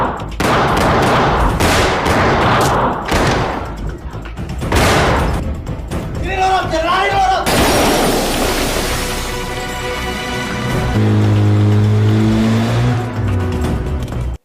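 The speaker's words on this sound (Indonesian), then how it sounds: "mereka berdua pun terlibat kejar-kejaran yang ketika sudah ketahuan, baku tembak pun tak terhindarkan lagi" Car chase and gunfire from the Indonesian film Serigala Terakhir, with loud engine roars and revving mixed with rapid bursts of shots and dramatic music over a continuous, dense action soundtrack, no speech.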